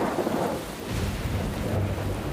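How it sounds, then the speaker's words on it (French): Thunder from an approaching storm over warm ocean waters rolls as a continuous low rumble, heavy and steady throughout, with a broad wash of rain-like noise on top. "on a vu qu'une tempête approchait au loin"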